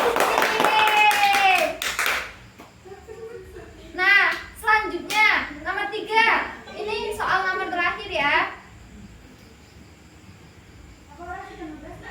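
Children in a classroom quiz clap briefly after a correct answer, a short burst of close handclaps, then lively kids' voices chatter and call out over the rest.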